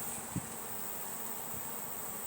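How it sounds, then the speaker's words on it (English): Honeybees buzz around an open beehive with an extension box and main box, giving a faint, steady hum with a soft knock near the start. "The bees are starting to go into the extension box, and this is the main box."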